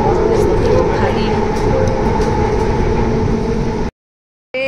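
A metro train runs with a loud, steady low rumble and rolling hum inside the car before the sound cuts out abruptly near the end.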